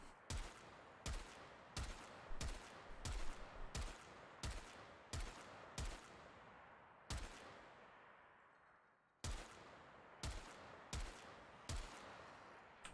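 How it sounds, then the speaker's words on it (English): Video game gunfire rings out as a rapid series of loud, sharp shots in quick bursts, with about a one-second gap in the middle before the volley resumes; nobody speaks. "And we're going to shoot."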